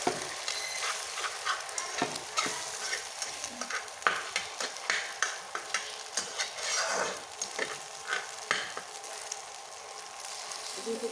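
Cracked eggs frying with chopped onion and green chili in a pan, a close crackling sizzle broken by repeated soft scraping stirs, no talk.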